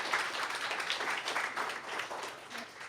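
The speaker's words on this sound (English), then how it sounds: "let's give another round of applause for Anthony." An audience at an appreciation luncheon applauding, dense and continuous clapping from a roomful of people, fairly close, lasting the whole moment with no talk over it.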